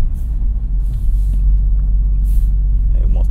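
A new 2024 Subaru WRX engine drones low and steady while driving at gentle revs, a continuous rumble close inside the cabin with faint hiss above it.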